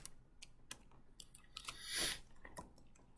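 Computer keyboard keys tapped while writing plotting code, a sparse run of close, quiet clicks with one brief louder rustle partway through, no speech.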